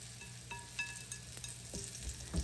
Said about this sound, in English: you place it in your skillet. And you let it fry